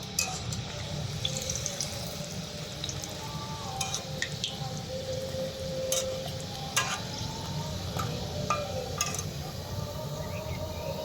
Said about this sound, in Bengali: নাস্তাটাকে দু থেকে তিন মিনিট উল্টে পাল্টে ভেজে নিয়েছি